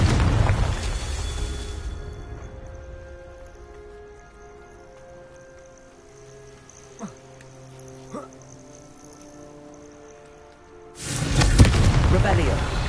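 Hogwarts Legacy Confringo blasting spell explosions: a loud burst at the start that fades into a quiet humming stretch, then another heavy roaring blast near the end.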